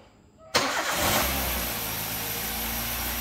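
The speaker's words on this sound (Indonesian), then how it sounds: "Mesinnya udah nyala teman-teman. Mesinnya halus ya." A used car at a dealership cranks and fires up, its engine jumping from silence into a loud start with a brief rev, then settling into a steady, smooth idle close by.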